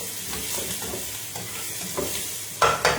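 Soy sauce is poured into a sizzling stir-fry in a pan: a continuous close frying hiss with stirring, then a sharper, louder burst of sizzle near the end as the liquid hits the hot pan. No voices.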